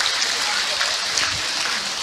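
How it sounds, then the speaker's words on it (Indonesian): An audience at an Islamic talk claps together, a dense, even patter of applause lasting the full two seconds with no pauses, fairly loud and close. "Tepuk tangan untuk kita semua."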